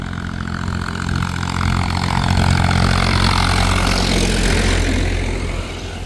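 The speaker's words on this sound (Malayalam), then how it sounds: "ഇത്രയും വലിയ ലോഡുമായിട്ടാണ് ആ ട്രാക്ടർ പോകുന്നത്." A heavily loaded tractor with large wheels drives past, its low engine rumble swelling to a loud, close peak in the middle and easing off toward the end.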